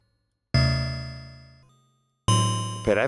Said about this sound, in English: See, if I get my envelope to sound like this kind of, a kind of bellish way